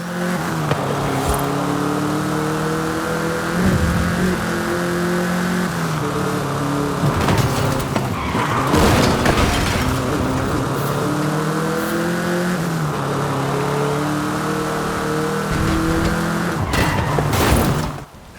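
A Volkswagen Beetle in the racing game Forza Horizon 5 drives with a steady buzzing engine note that rises and falls through gear changes, broken by several loud tire skids and scrapes, continuous and close throughout.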